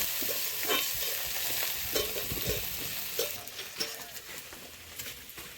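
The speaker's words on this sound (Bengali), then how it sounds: "দিয়ে দিচ্ছি গোটা কটা রসুন। এবার ভালো করে ভেজে নেব।" Whole garlic cloves fry in hot oil with a steady, close sizzle, interrupted now and then by the scrape and clatter of stirring.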